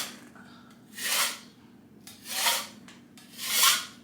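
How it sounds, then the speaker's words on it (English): Hand burnishing of a fireplace's plaster-like finish, heard as three separate rasping, rubbing sweeps, each rising and fading over about a second with short pauses between them, close up and with no talk. "So now I'm doing what's called burnishing it"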